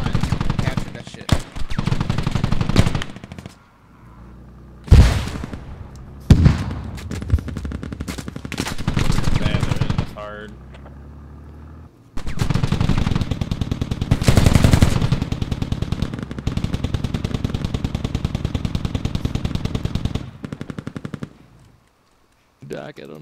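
Automatic and single gunfire from the tactical military shooter game Squad, loud bursts and rattling volleys recurring across the clip, with people talking over the shooting.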